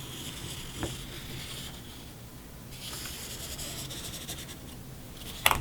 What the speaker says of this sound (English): I'm going to bring back my ruler and I'm going to draw another line